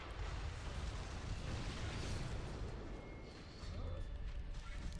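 Cannon fire in Sekiro: Shadows Die Twice, a dense, continuous roar of booming blasts and rumbling explosions that fills the scene and barely lets up.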